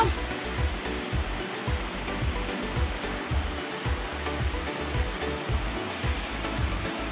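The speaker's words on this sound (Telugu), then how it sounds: "ఒక 2 నీళ్ళు పోసి అట్లా కడుక్కుంటాను" Tomatoes, green chillies and garlic are washed by hand in water in a home kitchen for Andhra gongura pappu, with steady sloshing and splashing in repeated rhythmic strokes, close and fairly loud.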